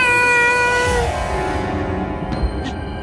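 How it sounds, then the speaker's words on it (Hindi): A cat meows inside a house in a comedy scene, a single drawn-out tonal meow at moderate level that fades into a quieter background. "घर में बिल्ली आ गई है,"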